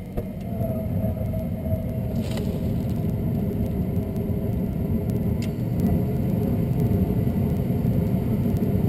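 A gas furnace burner lights on a newly installed gas valve, followed by a steady low roar and rumble of the flame that runs throughout, close and even, with a brief click near the start.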